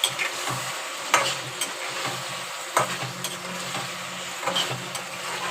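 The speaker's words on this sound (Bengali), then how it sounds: "একটুখানি জল দিয়ে আর একটুখানি মশলাটাকে কষাবো সয়াবিনটার সাথে" Soybean chunks being stir-fried with spices and a splash of water: a steady soft sizzle, broken by sharp scraping stirs of the spatula every second or so, close and alone without talk.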